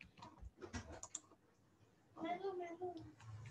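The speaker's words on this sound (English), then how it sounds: "Oh, Raska still typing on it." Keyboard typing in quick, soft clicks near the mic during a typing lesson, with a child and an adult talking over much of it.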